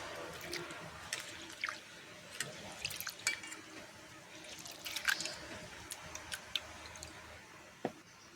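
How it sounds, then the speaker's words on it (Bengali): Lentils are rinsed with water for a bitter dal with drumsticks and bitter gourd, with faint, scattered drips, trickles and small clinks over a quiet background. "জল দিয়ে আবারও আমি ভালো করে ধুয়ে নেব"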